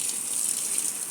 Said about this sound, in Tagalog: Didiligan natin ang ating mais guys.